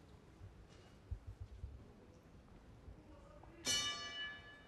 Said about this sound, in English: So bell goes at the start of the second round, and again Magomedov just comes straight for